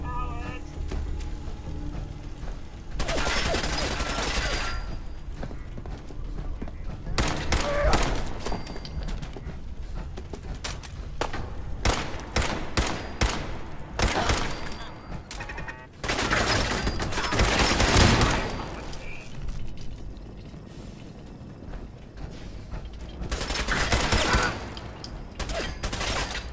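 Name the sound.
gunfire in Fallout 4 video game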